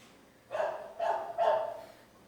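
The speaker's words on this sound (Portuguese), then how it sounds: "Cachorro." A dog barks three times in a quick, evenly spaced run, each bark loud and clear over an otherwise quiet background.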